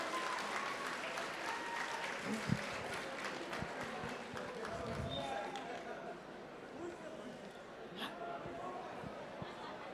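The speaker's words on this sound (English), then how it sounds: "Round of applause for the bidders, please." Applause from an audience at a book launch auction, steady clapping for bidders heard moderately distant and soft, mixed with crowd murmur and some thuds.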